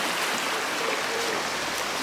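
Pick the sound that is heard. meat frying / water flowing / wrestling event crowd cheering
water flowing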